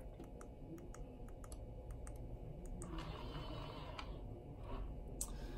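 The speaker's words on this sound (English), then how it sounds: "Just start typing in your code, and when you are finished, press the checkmark button." Quiet rapid clicks of keys being pressed on a Yale keypad door lock, an evenly spaced series of light taps over a low steady background hum, with no talking.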